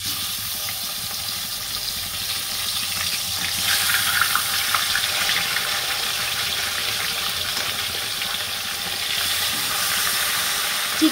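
Chicken pieces for rezala fry in a hot pan with a steady, loud hiss that swells after they go in and holds level throughout, with no voices.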